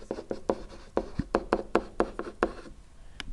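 Numbers being written by hand, a close series of sharp pen taps and scratches in an uneven rhythm, about a dozen strokes, with no talking.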